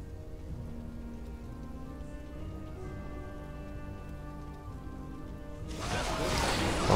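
Storm rain ability cast by a dragon in Warcraft 3 Reforged, a sudden loud burst of hissing downpour that erupts near the end over a low steady game backdrop.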